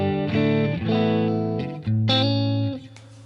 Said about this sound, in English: I'll also add in, I think, a little bit of a reverb.